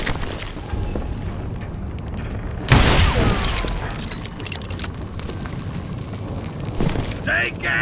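A dynamite and gunpowder blast from the Western shooter Call of Juarez Gunslinger: one loud, close explosion bursts out midway and rolls off into a rumbling decay over a steady background of game noise.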